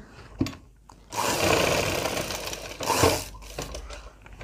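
A sewing machine stitching a salwar pocket runs in a steady whirring burst of about two seconds, close and loud, bracketed by a few short clicks and taps.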